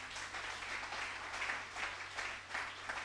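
Applause in a church acclaiming Jesus: a congregation claps in rolling waves with rhythmic swells, fairly faint and distant, with no clear talk over it.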